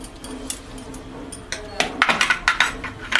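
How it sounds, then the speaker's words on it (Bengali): Milk powder being stirred into 500 g of reduced cow's milk in a pot for Bengali khirer patisapta, heard as scattered clinks and scrapes of a utensil against metal that grow busier and louder toward the end, with no talk. "এবার এগুলোকে সুন্দর করে মিশিয়ে নেব।"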